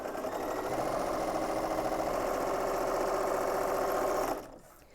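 A domestic sewing machine chain piecing red and cream quilt units, running in a steady fast mechanical whir close up for about four seconds before stopping abruptly.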